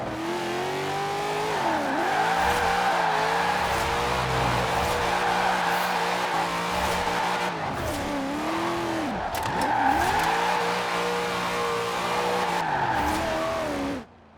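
A Corvette Z06 drift build in Forza Horizon 4 holds a steady, loud engine drone throughout, its revs rising and falling in sweeping arcs as the car slides, with tire squeal layered on top.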